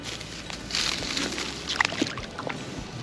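A big rainbow trout is released back into the water, making close sloshing splashes and watery churning that continue for a few seconds.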